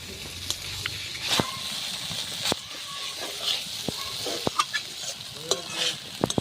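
Mixed vegetable fry with mustard paste being stirred in a pan, soft scraping and spatula knocks at irregular intervals over a quiet, low sizzle.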